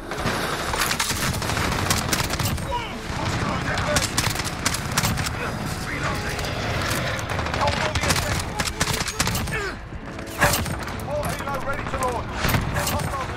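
Gunfire in the Modern Warfare video game: dense, rapid bursts of shots throughout, with repeated sharp reports and clatter packed closely together.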